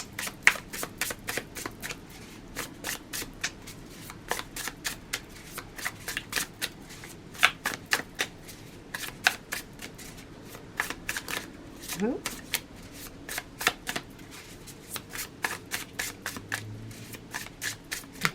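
Tarot cards being shuffled by hand in quick, crisp riffling bursts that recur throughout, close and fairly quiet, with a soft low background hum and no talking.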